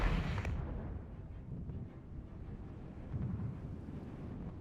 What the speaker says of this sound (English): That's artillery coming in on